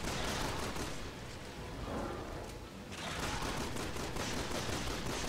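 Sustained rapid gunfire in Resident Evil 6, a dense, loud, continuous rattle of shots with a brief dip midway before resuming at full intensity, no voices over it.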